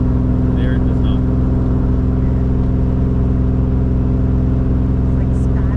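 A Toyota Supra MK4 with a 76mm turbo and a TH400 transmission runs close and loud with a rough, uneven engine note that hints at a misfire. A steady low drone continues without pause.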